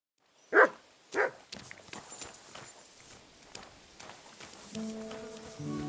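In the video game Kingdom Come Deliverance II, a dog gives two sharp, loud barks close by, followed by soft footsteps and hoofbeats and a faint musical tone.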